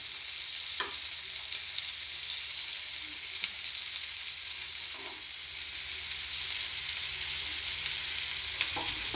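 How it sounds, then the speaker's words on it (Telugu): Pieces of jalla fish frying in a pan, a dense, even sizzle that holds loud and close throughout, with a few soft taps as the pieces are turned. "తిప్పితే అయిపోతుంది పెద్ద ఫ్రై, జల్లా ఫిష్ ఫ్రై"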